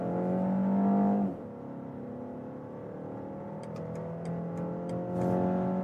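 BMW X1 with a petrol engine accelerating hard from 50 to 120 km/h, a steady rising engine drone heard from inside the cabin with a gear change near the start and faint ticking above it.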